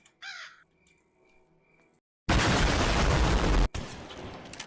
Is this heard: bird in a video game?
yes